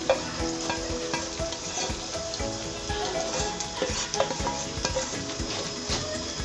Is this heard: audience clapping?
no